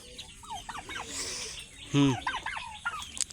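Farm turkeys gobble in a shed, with several quick warbling calls close by and one louder, lower gobble standing out midway.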